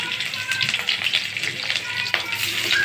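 Onions and garlic frying in a pan, a steady bright crackling sizzle with occasional soft stirring knocks, close and even in loudness, no voices.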